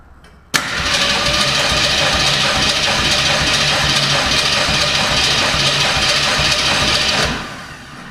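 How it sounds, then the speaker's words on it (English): A 1966 Ford Mustang engine cranks over continuously at wide open throttle during a compression test, a steady loud churning that starts abruptly and runs for about seven seconds before stopping. "Wide open throttle, and we're going to crank it over several times and see what our max reading is going to be"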